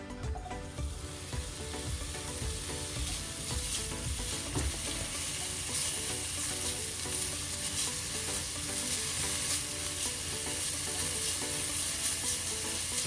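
Two slices of chopped bacon fry in oil in a pan, a loud, continuous crackling sizzle with occasional stirring scrapes, steady throughout with no voices.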